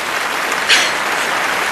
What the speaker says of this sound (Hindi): जब मैं होश में आई मुझे तालियों की गड़गड़ाहट सुनाई दी